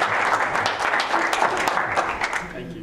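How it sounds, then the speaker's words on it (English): A room of attendees at an IoT meetup breaks into a second round of applause, dense overlapping clapping sustained and fairly loud throughout, with a few sharper claps standing out. "So I think that deserves like a second round of applause."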